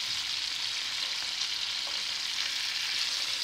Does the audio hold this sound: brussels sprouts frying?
yes